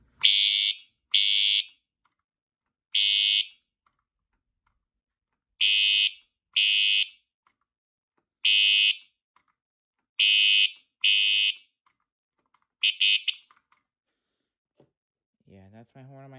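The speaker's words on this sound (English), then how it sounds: "I'm going to do my horn. Listen to the horn. Hear it? It's single stroke." A Wheelock MT fire alarm horn sounding in single-stroke mode gives about ten short, loud, harsh blasts at uneven intervals, followed by silence and then a brief voice near the end.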